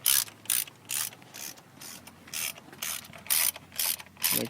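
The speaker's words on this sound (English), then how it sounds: "Tighten down the rocker cover." A hand ratchet tightens the rocker cover bolts on a 7th-generation Honda Civic during a timing belt service, giving about a dozen crisp, close clicking bursts in an uneven back-and-forth rhythm with short pauses between strokes.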